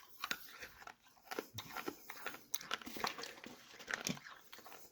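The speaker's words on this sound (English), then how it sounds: "Let me put that down as I crunch away here." Crunching on a stiff slab of 42-year-old gum from a 1981 Fleer baseball card pack, a string of close, dry, brittle bites and chewing crackles, quiet overall with irregular spacing.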